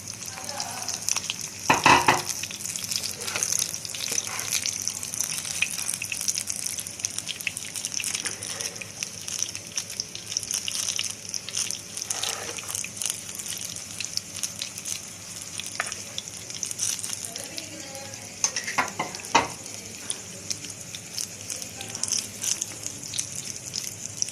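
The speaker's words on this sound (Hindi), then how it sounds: "अब इसको हम पैन में फ्राई करते हैं" Bread pakora frying in a pan, a continuous crackling sizzle with occasional stirring scrapes and clicks throughout, moderately loud and close.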